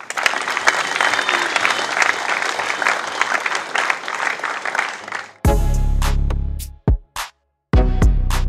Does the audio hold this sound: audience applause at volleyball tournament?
yes